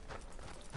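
Horse hooves clip-clop quietly in a steady walking rhythm in the Red Dead Redemption 2 video game, faint against a low background.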